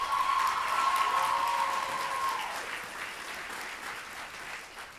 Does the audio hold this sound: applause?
yes